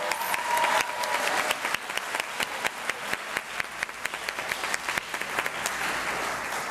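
An audience applauds the graduating seniors at Ranchview's 2019 senior walk, with dense continuous clapping and sharp individual claps standing out, holding steady and gradually thinning toward the end.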